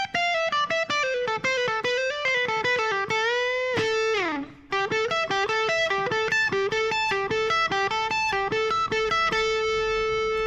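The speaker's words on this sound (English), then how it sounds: "Sounds a little bit wussy with this amount of distortion, but it is a good explaining amount of gain." An electric guitar with moderate distortion plays a solo, a fast run of bright picked notes with a brief bend and dip near the middle, loud and alone.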